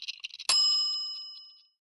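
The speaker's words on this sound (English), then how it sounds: "Wait until the bell rings." A bell rings to signal SpaghettiOs are done, one bright ding struck after some light tapping and left to ring out and fade over about a second.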